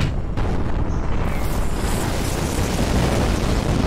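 Heavy, dense roar of gunfire and explosions in Destiny 2, a continuous loud barrage of booms and bursts filling the whole stretch without a break.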